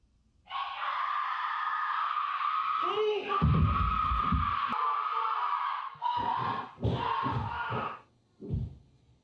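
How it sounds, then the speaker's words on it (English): A long, sustained, piercing scream from the ending scene of a horror film, loud and unbroken for several seconds over low rumbling effects, then breaking into shorter ragged cries before falling quiet. "That scream in that scene is one of the most horrifying screams I've heard in any scary movie ever."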